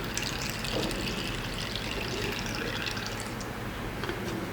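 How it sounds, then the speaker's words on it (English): Moringa juice draining steadily through a sieve while being gently turned, a continuous close trickle and splash of liquid with no talking. "you're just going to sieve it gently and keep turning it"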